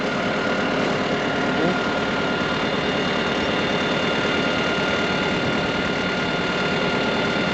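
Tractor engine idling at a steady, continuous rumble, close and fairly loud, with no change in pace.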